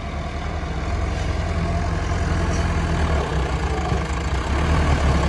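A tractor engine runs with a steady low, heavy rumble while the tractor is stuck at a tractor fair, loud and close throughout with no break.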